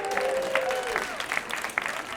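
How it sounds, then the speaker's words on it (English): Applause from the audience at a live stand-up comedy show in Rwanda, faint and lasting only a couple of seconds, with a voice speaking over it. "If you give them a round of applause"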